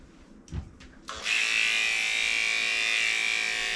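Electric dog grooming clippers start up on a Cavoodle puppy after a few soft knocks and handling thumps, then settle into a steady, close, high-pitched buzzing hum that runs unbroken to the end.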